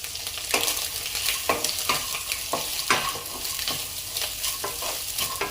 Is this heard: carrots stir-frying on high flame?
yes